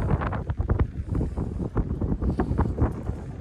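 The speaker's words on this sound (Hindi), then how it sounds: "बहुत तेज हवा चल रही है" Strong wind gusts atop the Eiffel Tower, buffeting the microphone with loud, uneven rumbling bursts and no voices.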